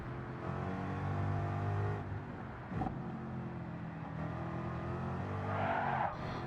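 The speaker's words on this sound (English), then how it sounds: "Hear the car wanting to slide on us." Race car sliding in Gran Turismo 7 at Bathurst, a steady engine drone with tyre scrub and a brief skid burst midway, then the engine pulling again under a faint squeal near the end.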